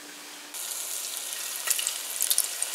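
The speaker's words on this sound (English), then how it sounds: "we're going to begin frying" Sliced cassava chips frying in hot oil, a bright hiss that starts abruptly and keeps going, with small pops and crackles building near the end.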